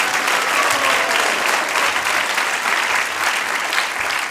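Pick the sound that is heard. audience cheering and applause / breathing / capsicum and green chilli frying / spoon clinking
audience cheering and applause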